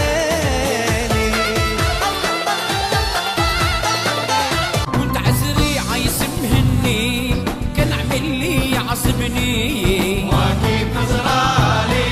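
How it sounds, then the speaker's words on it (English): Dense Sephardi and Mizrahi Jewish Israeli music plays continuously at steady volume, a full ensemble with busy melodic lines and driving percussion throughout, with no talking. "especially Sephardi and Mizrahi music, actually sounds like this."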